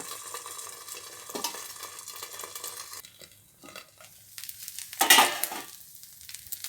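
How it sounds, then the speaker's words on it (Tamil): Poha dosa batter poured onto a hot, lightly oiled griddle sizzles steadily and fairly loud, with a brief sharper burst of spatter toward the end; no talking. "தோசைக்கல் காஞ்சிச்சு ஊற்றிட்டேன் அடியில் கொஞ்சம் எண்ணெய் தடவி இருக்கேன் இப்போ மேலே ஊற்றிட்டேன்"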